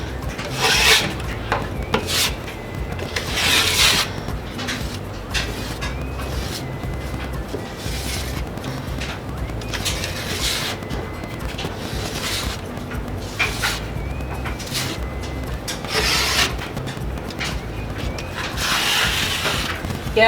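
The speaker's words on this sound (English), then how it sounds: "so I'm not continually scraping off what I'm trying to put on" A drywall knife rasps and scrapes joint compound into an inside corner in long repeated strokes, close and fairly loud, with steady rubbing passes and brief pauses between them.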